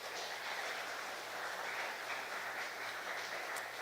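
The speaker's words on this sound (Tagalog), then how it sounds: "Napakahina naman ang palakpak na yan." A church congregation claps during a Filipino sermon, giving a faint, continuous, distant patter of applause that holds at an even level throughout with no speech.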